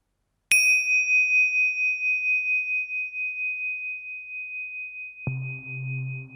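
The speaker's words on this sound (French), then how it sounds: "quand tu entendras les cloches sonner" A meditation bell gives a single clear ding that rings out and slowly decays, joined near the end by soft, low, steady background music.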